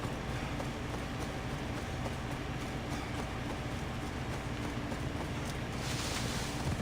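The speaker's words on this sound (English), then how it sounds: "My horse will be here." Horse hooves pound in a steady galloping rhythm in the video game Assassin's Creed Odyssey, a continuous close clatter blended with a constant windy rush.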